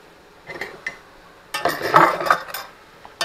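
Burnt-black rice is scraped out of a pot with a metal utensil, giving short bursts of harsh scraping and clinking, close and loud, with a pause between strokes.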